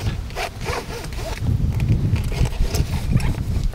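Front cinch of a horse saddle being unbuckled, with close leather rubbing, strap scraping and a jingle of buckle hardware in a short, busy burst.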